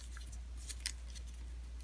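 Paper creased into a mountain fold for an origami football, giving a few faint, brief crinkles and taps over a steady low hum, with no talking.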